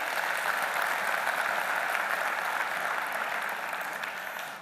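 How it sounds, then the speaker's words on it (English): Sustained audience applause fills a conference hall at an investment conference, a dense steady clapping that holds loud throughout and tapers slightly at the end, with no speech over it. "Another round of applause, ladies and gentlemen."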